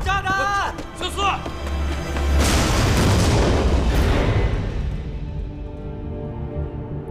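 A bomb goes off in a wartime drama scene: a deep, rumbling blast with a long, roaring decay that slowly fades away. Shouting voices come before it and continue under it.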